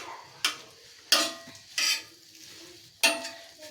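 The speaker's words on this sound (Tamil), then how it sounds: "பச்சை மிளகாவை போட்டு இன்னும் கொஞ்ச நேரம் கலக்கி விடணும்" Green chilies fry in a pan for egg poriyal, a low sizzle broken by four separate scraping stirs of a spatula at uneven intervals, close and distinct.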